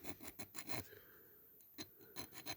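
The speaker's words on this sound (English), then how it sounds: "we can file away with that" A metal hand file rasps across a small part from a diecast Dinky Toys Austin Devon model car during restoration, in a run of quick strokes, then a pause and more strokes, faint and close with no talking.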